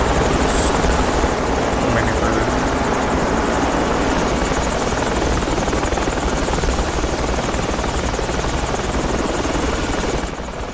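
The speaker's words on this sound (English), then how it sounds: "Man, that helo was so fucking loud." A helicopter passes overhead in the Project Reality military game, a loud, dense rotor roar with rapid chopping that holds steady for the whole stretch and barely fades at the end.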